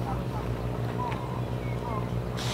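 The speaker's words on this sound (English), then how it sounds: "Quite intrigued by the sound of that tractor over there." A tractor engine runs in a Thai rice field, a steady low droning rumble with a noticeable exhaust note, heard from some distance under wind noise.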